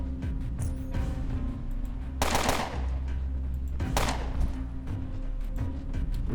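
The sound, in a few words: gunfire in Underrail video game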